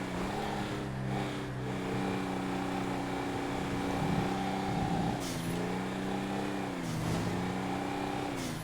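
Car engine in GTA V, a steady droning hum with rising and falling revs as the car drives along, continuous and fairly loud with no talking.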